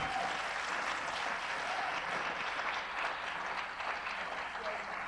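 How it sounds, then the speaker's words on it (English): Audience applause at an environmental forum keynote honoring award winners, a sustained, moderately distant patter of many hands clapping, with some voices mixed in. "let's give a round of applause to Carl and Ann Little"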